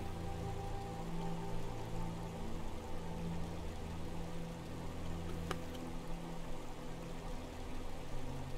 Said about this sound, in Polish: w tych porach deszczowych w Skyrimie właśnie będą często padały deszcze.